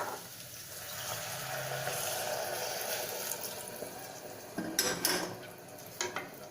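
Hot water poured into a field beans curry, a continuous soft pouring hiss followed by brief scraping and clinking of a spoon stirring in the pot, close and fairly quiet.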